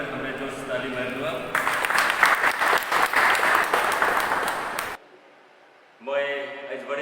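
Loud crowd applause at a youth day welcome programme bursts in after a voice on a microphone, keeps going for several seconds, then cuts off, followed by silence and more talk.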